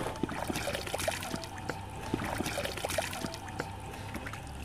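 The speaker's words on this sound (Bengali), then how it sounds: "আসো হাত পা ধুয়ে নিয়ে আসি" Water poured for washing hands and feet gives soft, close splashing and trickling in repeated small pulses, fairly quiet and with no talking.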